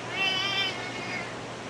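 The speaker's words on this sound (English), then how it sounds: "And yes, you hear her in the background." A pet cat gives one drawn-out, plaintive meow that rises and then fades, heard a little way off in a quiet room.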